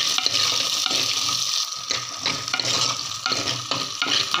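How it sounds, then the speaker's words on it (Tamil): Garlic and onion fry in oil in a pan while being stirred for a Tamil-style tamarind kuzhambu, giving a steady close crackling sizzle with scraping stir sounds and no talking. "இதில் நம்ம எடுத்து வச்சுருக்க பூண்டில் பாதி எடுத்து இதில் போட்டுக்கலாம். அதுவும் இந்த எண்ணெயிலேயே நல்லா வதங்கட்டும்."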